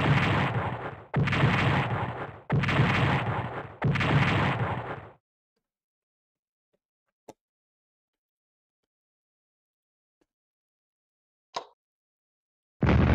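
Heavy Japanese artillery on Peleliu in the WWII strategy game Strategic Command WWII: War of the Pacific, with four loud booming salvos in quick succession, then near silence broken by a few sharp isolated cracks and a final blast.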